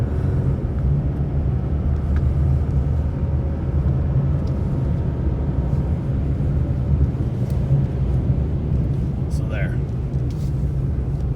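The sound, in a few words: Chevrolet Colorado ZR2 pickup accelerating in off-road mode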